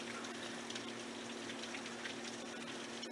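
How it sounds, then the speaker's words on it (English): Steady rain falls in a constant broadband wash with faint patter, continuous and fairly close, no voices, a low steady hum running underneath. "Just enjoying this rain"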